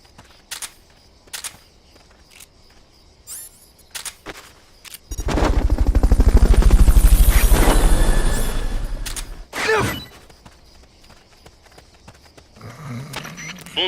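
A helicopter from Metal Gear Solid: Peace Walker swells in with a loud, rapid rotor chop that peaks and fades over several seconds, preceded and followed by sparse clicks and short effects.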